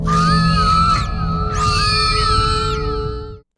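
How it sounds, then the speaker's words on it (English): A loud, piercing shriek from a mermaid character in a film, in two long bursts, harsh and eerie with a warbling, unnatural edge, ending abruptly. "the perfectly inhuman scream that tears out of her"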